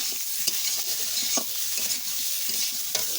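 Spices being stirred and sautéed in a village kitchen for a tangra fish curry, with a constant bright sizzle and irregular spoon scrapes and knocks against the pot, close up, with no talking.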